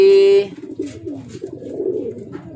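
A racing pigeon coos softly several times at close range, low throaty calls following a brief tonal sound at the start.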